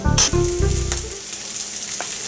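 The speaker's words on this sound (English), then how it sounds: "You hear the sizzle." Loud sizzling of chicken searing in a hot pan, a steady crackling hiss with bursts of spitting fat, close up.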